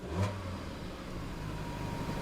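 A car's engine idles roughly and a little shakily just after starting, a low uneven mid-pitched running sound with a slight rev bump at the start, fairly quiet and steady.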